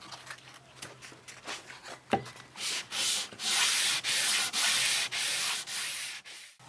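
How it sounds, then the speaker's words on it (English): Wood being hand sanded with 220 grit sandpaper wrapped on a flat block, a close, steady run of loud rasping strokes that grow longer and more even as the rhythm settles. "Time for some hand sanding, 220 grit on a nice flat block."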